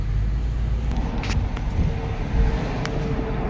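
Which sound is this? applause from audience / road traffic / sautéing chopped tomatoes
road traffic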